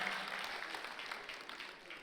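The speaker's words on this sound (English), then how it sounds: "Can we clap for this man?" Faint, steady applause from an audience at a comedy show, a soft wash of clapping that carries evenly throughout and tapers slightly at the end.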